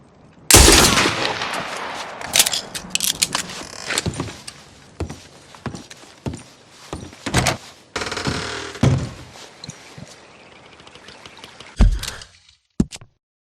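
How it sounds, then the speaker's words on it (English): Gunshots fired at a giant spoon in Red Dead Redemption 2, a series of loud, sharp cracks spaced irregularly across the stretch, each standing alone with brief game ambience between them. "Arthur needs to shoot that giant spoon"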